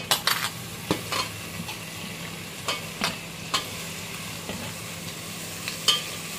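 Tomatoes sauté with browned onions in a pan, a soft, quiet sizzle broken by a series of sharp spatula clinks and scrapes against the metal at irregular intervals.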